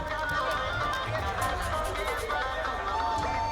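A large, enthusiastic crowd of supporters at Prime Minister Modi's evening roadshow in Pir Muhani, Patna, makes a dense, steady murmur of voices and movement, moderately loud, with scattered louder shouts standing out over the hubbub.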